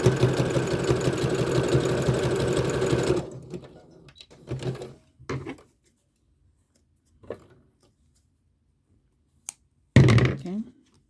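A sewing machine back stitches across a boxy zipper bag at a 4.5 width and 1.8 length setting: a loud, steady, close whirring for about three seconds, then it stops, leaving scattered soft handling thumps and clicks.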